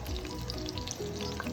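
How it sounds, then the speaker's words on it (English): Baby clams fry in a tall frying pan, making a steady close sizzle with fine crackling pops and no voices. "There they are, they're now frying, and it doesn't splatter as much because it's a taller frying pan"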